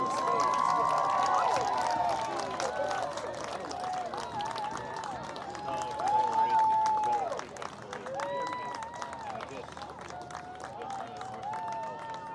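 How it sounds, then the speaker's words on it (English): Crowd noise at a Flower City Union versus Akron City soccer match, a steady wash of cheering and clapping with a faint whistle-like tone, while a nearby announcer voice talks over it. "Keep on cheering."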